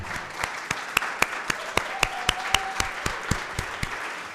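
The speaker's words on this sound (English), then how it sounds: "Let's give a round of applause to Margot." Scattered, sparse clapping at a town council meeting honoring the council clerk, with a few hands beating a slow, regular rhythm of distinct claps.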